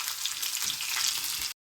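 Tempering sizzles and fries steadily in a pan for turkey berry gojju, a loud continuous hiss with faint stirring, alone with no voices, then cutting off abruptly.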